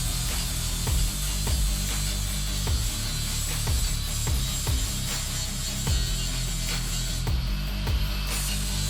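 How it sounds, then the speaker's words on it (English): A sanding disc grinds down the welds on a Honda CB750 cafe racer's rear motorcycle fender. The steady, loud abrasive rasp runs throughout, broken by regular rhythmic knocks and clicks. "we clean the welds using a sanding disc"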